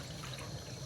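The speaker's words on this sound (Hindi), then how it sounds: "अभी डालेगी पानी में दूध।" Milk pours into a pan of water being heated for tea, giving a steady, soft liquid trickle that runs unbroken and moderately close, with no voices.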